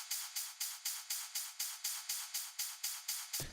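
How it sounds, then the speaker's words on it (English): Layered hi-hat pattern in melodic techno: steady eighth-note ticks topped with bright white-noise hats, a regular driving pulse of about fourteen hissy, high hits, alone with no talk, ending on a brief low thump. "And white noise hats on top of that."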